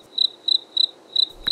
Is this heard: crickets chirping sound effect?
yes